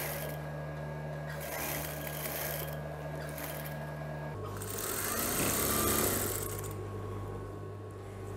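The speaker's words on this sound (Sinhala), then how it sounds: "දැන් අපි ඩාට් මහනවා මේ මැද ඩාට් එක ඊට පස්සේ අංච ඩාට් දෙක මහ ගන්න" A sewing machine stitches darts on a high-neck saree blouse, its steady mechanical whirring running in close, continuous bursts that pause and resume.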